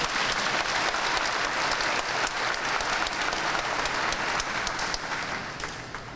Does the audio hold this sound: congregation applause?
yes